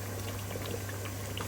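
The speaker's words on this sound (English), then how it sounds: "and now it start bubbling" Spicy prawn curry bubbles inside a pressure cooker, a steady soft simmer with small pops over a constant low electrical hum.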